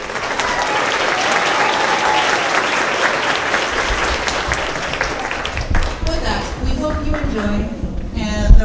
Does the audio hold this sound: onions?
no